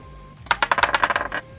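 Dice clatter and rattle across a hard surface in a burst of rapid, bright clicks lasting about a second, rolled during a tabletop Dungeons & Dragons session, close and alone.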